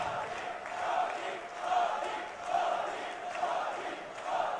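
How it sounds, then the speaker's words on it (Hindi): A large crowd at a live political rally in Madhya Pradesh claps and cheers to welcome the Prime Minister, a steady roar of applause that swells and ebbs in waves over several seconds. "एक बार फिर तालियां बजाइए, स्वागत कीजिए, अभिनंदन कीजिए"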